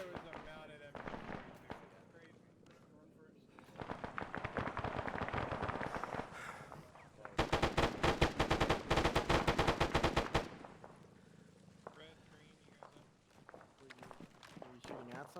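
Bursts of Arma 3 gunfire from a mounted gun, including a loud, sustained rapid-fire stretch near the middle, with quieter shots and movement noise around it and occasional speech.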